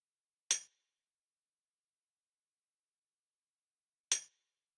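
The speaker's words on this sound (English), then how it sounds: "Then we have the tambourine." Two isolated, bright tambourine hits from a dark garage drum kit, spaced about three and a half seconds apart, each short and crisp with a jingly metallic shimmer and silence between.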